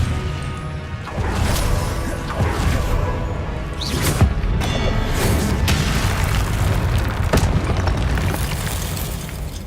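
Spell-casting combat in the Hogwarts Legacy video game, a disarming charm among rapid magic attacks, with dense booming blasts, crashes and whooshes rolling continuously at steady loudness and no clear pauses.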